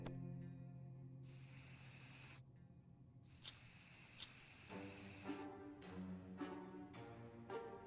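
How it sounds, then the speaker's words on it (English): An aerosol can of bug killing spray hisses in long sustained bursts in the game 60 Seconds! Reatomized, then gives way to short faint tonal game sounds, with no voices. "There's one thing that could drive spiders away. It's bug killing spray."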